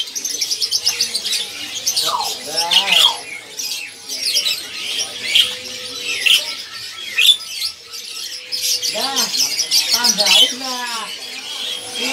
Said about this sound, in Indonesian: Ini perkutut pilihan ya, udah bunyi-bunyi ya, udah rajin bunyi.